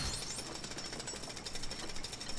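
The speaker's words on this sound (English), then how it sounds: "Guess he wants me to use my jackhammer." Jackhammer from the Lego City Undercover video game, a steady, dense mechanical hammering that runs loud and unbroken from start to finish, with no talking over it.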